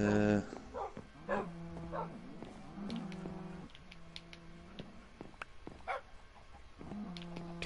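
Dogs in Minecraft on PS4 give short, tonal barks and whimpers in scattered bursts. They are fairly quiet and heard between brief moments of someone talking.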